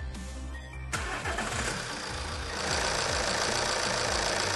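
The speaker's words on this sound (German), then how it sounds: "Motor bitte starten." A common rail diesel car engine with a faulty fourth-cylinder pressure sensor cranks with a sudden loud jolt, catches, and settles into a rough, rhythmic idle that grows louder toward the end, with no talking.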